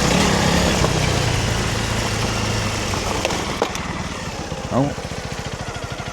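Honda CRF300 Rally motorcycle engine working on a loose, rocky hill trail, a loud rumbling drone that settles to a lower pulsing idle-like throb, with a short spoken exclamation.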